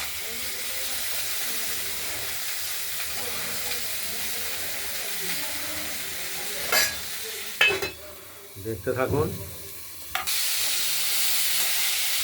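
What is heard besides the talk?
beans and potatoes frying and stirred in pan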